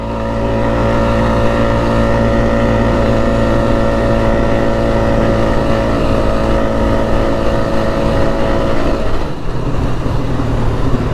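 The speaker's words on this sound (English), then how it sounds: "take this turn, non-power steering, and then right on the throttle." A Polaris Sportsman ATV without power steering takes a turn and then accelerates on the throttle. Its engine drones loud and close throughout, shifting pitch near the end, with wind noise mixed in and no speech.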